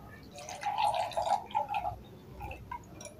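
Water dripping into a sample of thick honey during a purity test, a cluster of small close drips and plinks running for about two seconds, then a few sparser, fainter drops.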